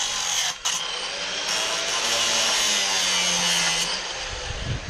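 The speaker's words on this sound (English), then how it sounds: "that's the Widowmaker, a 9-inch grinder." A 9-inch angle grinder cuts outdoors, producing a loud, continuous, close abrasive whine with one brief dip near the start.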